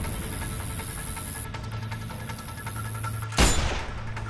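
A single loud gunshot with a sharp broadband crack at about 3.4 s, set over a steady game soundscape with hum and ambient tones in Sniper Ghost Warrior 2.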